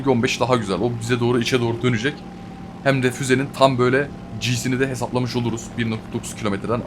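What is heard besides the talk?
None of the usual background noises is heard.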